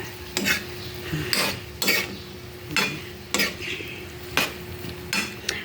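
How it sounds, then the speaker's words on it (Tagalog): Squid adobo (adobong pusit) is stirred in a pan, a utensil scraping and clacking against the metal in periodic strokes roughly every second, over a steady low sizzle and kitchen hum. "Tapos, halo-haloin natin siya."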